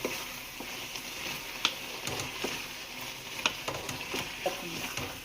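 Tomato pickle with tamarind being stirred in a pan, giving a steady close sizzle with soft wet scraping and squishing strokes, a few sharper clicks of the spoon against the pan, no voices.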